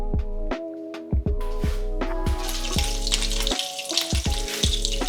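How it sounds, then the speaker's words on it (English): Clarified butter heating in a pan for apple pancakes gives a close, loud sizzle and crackle, with a few sharp clinks and knocks of utensils breaking through, no talk. "heat some clarified butter"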